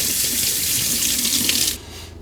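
Tap water runs steadily at close range, rinsing glue and spray paint off an object, with a continuous hissing splash that cuts off abruptly near the end.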